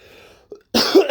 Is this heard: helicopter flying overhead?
no